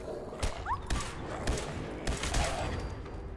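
Gunfire from a Fallout 4 video game session, a rapid string of sharp shots at an uneven rhythm over a dense, noisy game soundscape, fairly loud and continuous for a few seconds with no talking.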